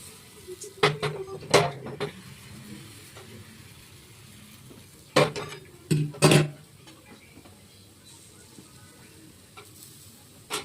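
Food being stirred in a pot, heard as two clusters of clattering scrapes and knocks against the metal with a faint simmer between them and a final tap at the end.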